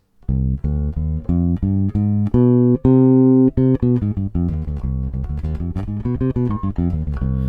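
Bass guitar running through a C harmonic minor scale, a steady succession of about fifteen single plucked notes, each sustained and clear, played alone without talk.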